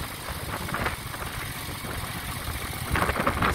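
A 1970 Moto Guzzi Ambassador motorcycle engine runs steadily while the rider shifts gears, giving a fairly quiet, continuous mid-low rumble that swells slightly near the end.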